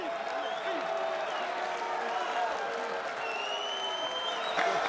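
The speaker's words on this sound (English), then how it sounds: "The crowd is shouting Berto." A boxing arena crowd after a fight roars and chants a fighter's name, a dense sustained wall of voices and applause with no clear individual speech.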